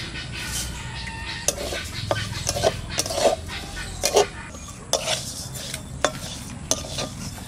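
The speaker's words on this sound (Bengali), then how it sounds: "এবার আমি মুগ ডালটা ভাজবো।" Moong dal being fried and stirred in a wok, a steady light sizzle broken by repeated sharp scraping and clinking strokes of a spatula against the pan.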